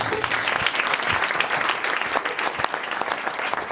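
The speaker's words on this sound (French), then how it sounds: "Témoignez vos applaudissements pour notre président, Georges-Louis Boucher." A hall audience at a Belgian political gathering claps loudly for the party president. The applause is continuous and dense for the whole stretch, with no speech over it.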